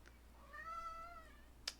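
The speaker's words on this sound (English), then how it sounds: "A cat has appeared and is calling for my attention." A single drawn-out meow from a male house cat, close and clear in a quiet room, followed by a brief sharp click just after it ends.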